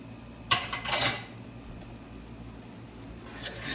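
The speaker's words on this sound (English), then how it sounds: "Give that a good stir." Dill risotto with butter stirred in a pot, a few close metallic clinks and scrapes of a spoon against the pot, followed by quieter stirring.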